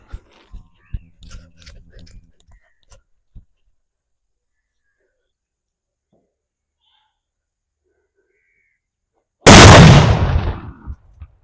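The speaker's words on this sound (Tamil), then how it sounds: "இதனோட பிளாஸ்டிங் வெடி பார்ப்போம்" Large blasting-type Valangaiman country firecracker detonating in one sharp, very loud bang with a short rumbling tail, preceded by a stretch of near silence and some brief voices and small clicks early on.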